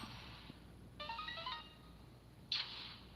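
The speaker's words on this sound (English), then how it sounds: "That was the doorbell going at 8:55 PM." A doorbell rings at night in a quiet room: a short melodic chime of several tones, a pause, then a brighter single ding near the end, faint against a low hum.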